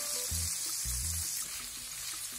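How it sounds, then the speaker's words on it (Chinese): Leeks stir-frying with pork belly in a wok: a steady close sizzle of hot oil runs throughout, with a few soft knocks and scrapes of the spatula near the start. "先把大葱炒到有点缩水，然后我们就可以把肉混在一起翻炒。"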